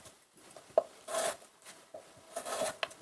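A knife cuts peeled radish into thin 0.5 cm strips on a cutting board, with two rhythmic runs of close, crisp chopping strokes separated by single taps and brief pauses.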